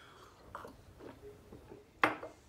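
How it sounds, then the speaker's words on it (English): Someone chews a crunchy chocolate-dipped insect close to the mouth, with a few soft bites followed by one sharp, loud crunch near the end, and no talking. "The insect, as I thought, was super crunchy,"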